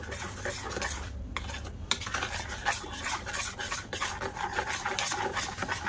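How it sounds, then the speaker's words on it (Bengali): A spoon scrapes and stirs through a thickening palm fruit mixture for Bengali taal sweet in a pot, giving steady, close, repeated scraping and clinking with no talk. "ভালো করে মিশিয়ে নেব।"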